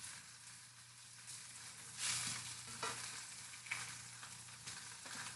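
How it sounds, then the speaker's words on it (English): Spam sizzling and browning in a frying pan, a steady close crackle with occasional louder spits and pops, no talking. "just let the Spam get, we want it to get a little bit brown"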